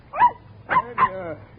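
A dog gives three short barks or yelps in a row, fairly close and loud, while being picked up by the scruff of the neck at the rear of a car during a passport check.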